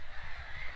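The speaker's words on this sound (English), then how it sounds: "Can you hear all those noisy birds nesting?" Nesting crows caw noisily around Carsington Water, a brief harsh chorus blending into steady outdoor background noise.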